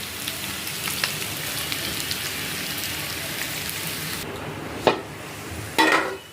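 Sliced snake gourd fries in a pan with salt and turmeric, giving a steady close sizzle and hiss throughout, broken by two brief clatters near the end.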